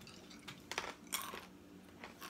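Japanese-style peanuts from Mexico crunched between the teeth, a few short, faint crisp crunches spaced irregularly, close and quiet.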